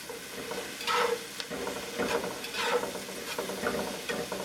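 Vegetables sizzle in butter with pepper and salt in a soup pot for vegetable beef barley soup, while a spoon scrapes and stirs in irregular strokes over a constant frying hiss.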